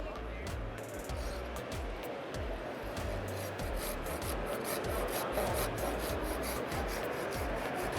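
A handsaw makes the back cut in a tree during urban rigging work, its rasping strokes steady and rhythmic at close range, about two strokes per second, with faint speech now and then.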